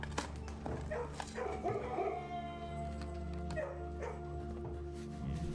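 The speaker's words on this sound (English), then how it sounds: "That dog, he's a good boy." A dog in the video game Blue Prince whimpers and yips over a steady game music bed, with short howl-like and bark-like calls scattered across the stretch at moderate loudness.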